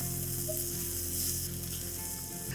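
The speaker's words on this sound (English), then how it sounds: "I'm going to slide in very carefully the onion and tomato masala. Allow this to cook on medium flame" Onion and tomato masala sizzles steadily in a pan over a medium flame, a continuous close hiss and crackle with no talking.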